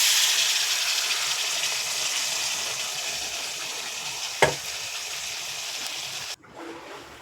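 Fried potatoes and cauliflower hiss and sizzle steadily in a pan after water goes in, with a sharp clack near the end before the sizzle drops and continues more quietly.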